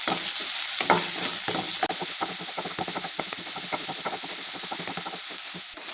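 Chopped small onions frying in oil with cinnamon and cardamom: a steady bright sizzle with frequent clicks and scrapes of stirring against the pan, close and constant with no talking.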